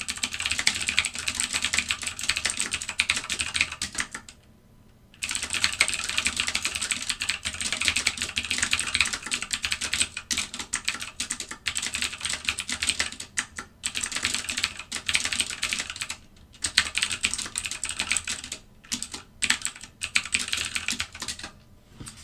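Quick keystrokes on a computer keyboard clatter close by in irregular bursts during a live trading session, with brief pauses between runs of typing and no speech.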